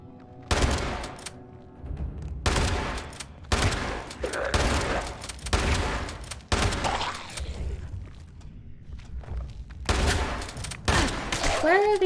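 Heavy bursts of shotgun fire in the video game Fallout 76, several loud close blasts in clusters with gaps between them, ringing over a low rumble.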